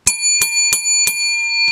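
A bell rung in five quick, bright dings at a steady rhythm, close and loud, its metallic tone ringing on between strikes.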